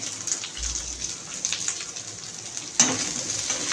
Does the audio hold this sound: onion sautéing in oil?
yes